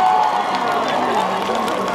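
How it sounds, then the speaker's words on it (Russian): A concert crowd at a show in Sarapul applauds and cheers loudly, with continuous clapping and shouts blending into a dense roar for a couple of seconds. "Мне кажется, они заслуживают аплодисментов."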